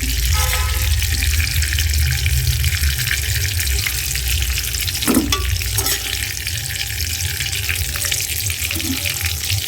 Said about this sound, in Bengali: পেঁয়াজটা ভাজা হয়েছে নামিয়ে ফেলবো